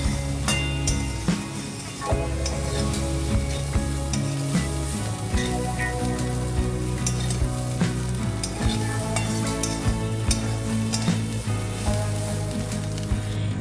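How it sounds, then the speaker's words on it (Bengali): Cauliflower pieces fry in hot oil in a pan, a steady close sizzle broken by frequent scraping and clattering strokes as they are stirred and turned. "5 মিনিট পর ঢাকা খুলে নাড়াচাড়া করে ফুলকপি ভালোভাবে ভেজে তুলে নেব।"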